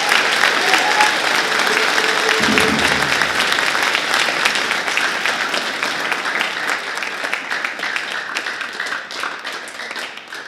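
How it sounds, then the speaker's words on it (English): A concert audience gives sustained, loud applause for Zach, a senior band member, at a school band concert; thick clapping runs unbroken for about ten seconds, with a brief tonal trace early on. "how about another round of applause for Zach?"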